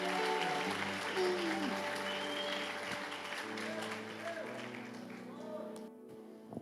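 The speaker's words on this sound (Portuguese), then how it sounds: "Então louve ao Senhor com as palmas." A church congregation claps in praise, a lively patter of hands beneath sustained singing voices and musical tones that run through the whole stretch.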